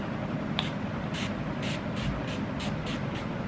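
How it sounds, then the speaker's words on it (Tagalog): Makeup setting spray misted onto a face in about eight quick, evenly spaced hissing bursts, close and clear over a steady low background hum. "I'm just putting makeup setting spray."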